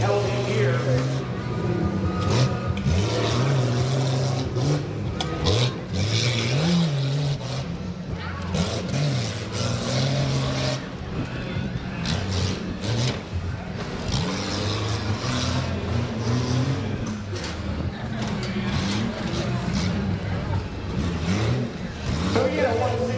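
A rough truck engine at a county fair rough-truck race revs hard and loud throughout, surging and dropping as the driver works the gears, with talk over the din.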